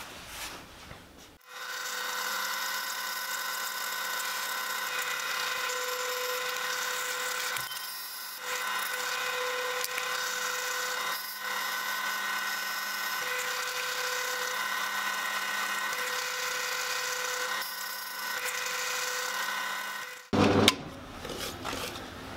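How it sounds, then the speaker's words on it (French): A small electric drill bores two holes into a wooden safety comb brush, held by hand without a vise; a steady high-pitched whine with harmonic tones runs for about twenty seconds, briefly dipping partway through, then stops. "Donc maintenant, je vais percer deux trous par brosse"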